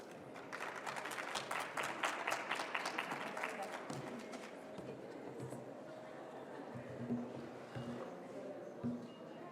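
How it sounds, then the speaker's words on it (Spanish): A conference audience applauds after a speaker is introduced, a brief burst of scattered clapping in the first few seconds that thins out into murmurs and small room noises, heard faintly. "Un aplauso, por favor."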